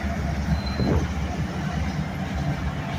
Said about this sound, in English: Sounds like it had fans going on, dynamic brakes up there.